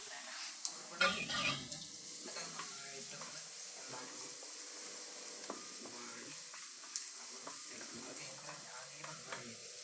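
Onions frying in hot oil in a pan for Maggi noodles, a steady soft sizzle with occasional stirring scrapes and light clinks, faint and close, with talk at times.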